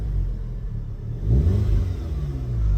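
A 2016 Audi S3 starts with a push-button start, a deep throaty rumble that swells as the engine catches and settles into a steady idle, close and loud, with no talk.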